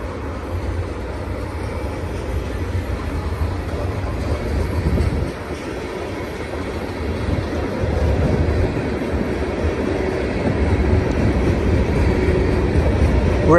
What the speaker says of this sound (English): The lead locomotives right now are at Cajon Summit.